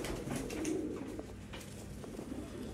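Pigeons from a Sialkot flock coo faintly in a low, continuous murmur, with a few sharper clicks and rustles scattered through it, somewhat distant.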